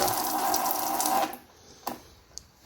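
Rear differential fluid from a Honda CR-V pours into a drain pan, a steady close trickling flow for over a second before stopping, followed by a couple of faint drips.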